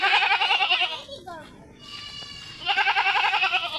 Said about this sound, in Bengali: ছাগল সারা রাস্তা ডাকাডাকি করতে করতে চলে আসতেছিল